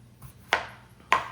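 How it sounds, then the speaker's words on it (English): A knife dices gold potatoes on a cutting board, making two crisp, close chops about half a second apart with no talk. "Potatoes are just going to be, you know, diced up."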